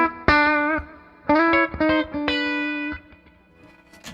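A Holland Strat electric guitar played on its full bridge pickup rings out in bright, driven chords and sustained notes, several strums in a row with effects and slight distortion, heard alone.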